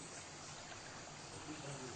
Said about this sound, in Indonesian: di alur gua ini ada sungai yang mengalir